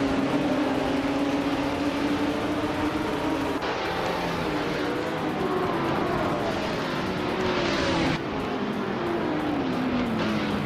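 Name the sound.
racing cars in a video game race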